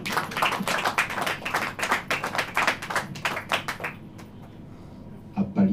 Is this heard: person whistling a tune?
no